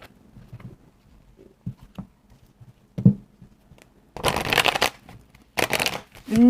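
Tarot cards are shuffled and drawn by hand: soft scattered taps and slides, then two louder riffling bursts of shuffling near the end, close and alone with no talk.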